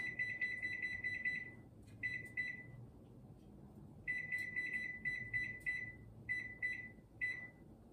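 A kitchen timer goes off while chili cooks, sounding repeated bursts of high electronic beeps in short rapid groups with pauses between, steady and fairly loud indoors with no speech.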